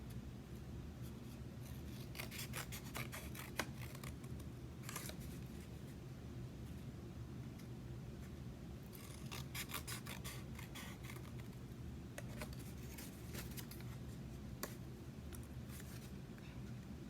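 Scissors snip through a paper plate in short bursts of crisp cuts separated by quieter rustling, close and moderately loud, with a low background hum throughout.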